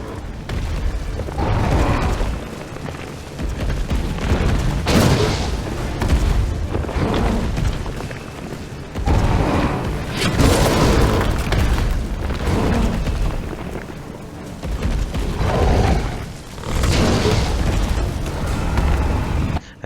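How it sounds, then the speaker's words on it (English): Explosive rounds boom one after another in Resident Evil 3 (2020), each a loud, deep blast that rolls out for a second or two, with rumbling game noise filling the gaps. "The rest of my explosive rounds."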